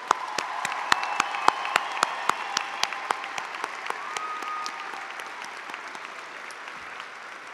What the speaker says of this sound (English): Let's one more time give them a round of applause.